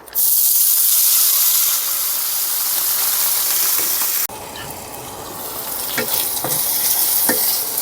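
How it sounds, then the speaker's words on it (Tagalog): Tapa, cured meat, frying in a pan, a loud, steady, close sizzle with broad hiss. The sizzle drops off abruptly midway, then carries on with occasional clinks and scrapes of stirring. "okay, so ang una kong ginagawa ay piniprito ko muna tong tapa"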